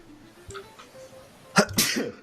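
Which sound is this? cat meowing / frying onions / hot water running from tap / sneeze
sneeze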